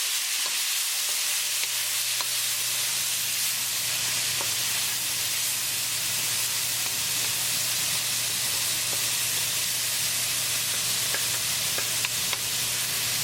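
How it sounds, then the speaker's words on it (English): Tomatoes being stirred into green chili tadka in a hot frying pan on medium gas, a steady loud sizzle and hiss throughout with faint occasional scrapes, no talking. "Now we're going to add tomatoes. Mix it well."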